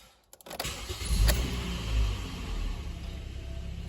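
Toyota Corolla engine cranking briefly and catching, then settling into a steady close idle with a low rumble, no talk.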